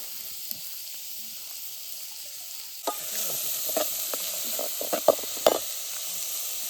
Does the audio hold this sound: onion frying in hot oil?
yes